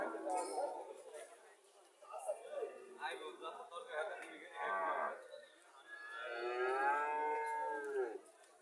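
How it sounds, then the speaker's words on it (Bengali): Golden Haryana cows mooing on a farm, a few long, loud lowing calls rising and falling, the strongest near the end, with people talking at times between them. "এখানে আরো একটা গাভি আছে, একই কালারের গাভি দুইটা।"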